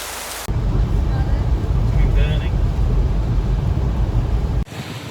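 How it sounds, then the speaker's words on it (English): Heavy rain pours down steadily around a caravan on a campsite during a storm, a dense, loud broadband wash filling the clip alone before cutting off near the end. "Absolutely pouring down with rain"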